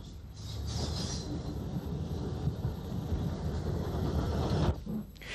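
Former Cork, Blackrock and Passage steam tank locomotive number 10 arrives at Belturbet on the narrow-gauge Cavan and Leitrim railway, a faint, steady low rumble of the moving train heard from a distance with no voices.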